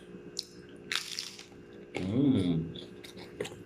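Someone bites into crunchy oven-cooked food close to the mic, giving a couple of short crisp crunches followed by a longer, squishy chewing crunch in an otherwise quiet room.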